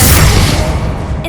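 A Confringo fire blast spell goes off in Hogwarts Legacy, a loud booming burst with a heavy low rumble that fades over about a second.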